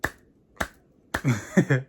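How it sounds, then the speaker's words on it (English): Several sharp hand claps from a reaction host, three spaced claps followed by a quick cluster of claps mixed with brief vocal sounds, close and dry in a quiet room. "what's that clapping sound?"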